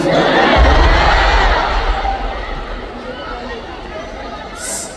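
Concert crowd at a Thai boy-band show screams and cheers loudly, a dense burst that peaks early and slowly fades, with shouting voices mixed in.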